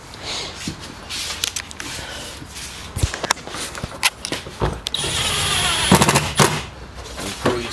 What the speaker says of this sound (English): you just spin the drill into the other direction